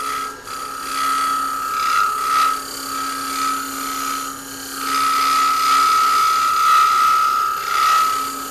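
A skew chisel held as a scraper against wood spinning on a lathe gives a steady, loud scraping whine. It wavers in strength as the cut goes on, and no voice is heard.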